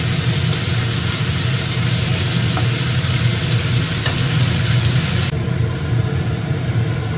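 Paneer pieces fry lightly in a pan with a steady close sizzle and hiss throughout, a couple of faint taps within it and no talking.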